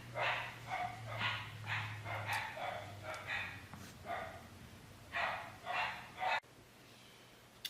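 Dogs bark repeatedly in the background of a workbench repair of a paintball marker regulator, a steady run of fairly faint barks with a low hum underneath, ending abruptly.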